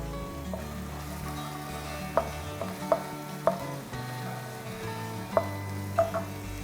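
Garlic and ginger frying with garam masala in a pan for green pepper chicken, a continuous moderate sizzle punctuated by several sharp spoon or spatula clinks against the pan, close and without speech.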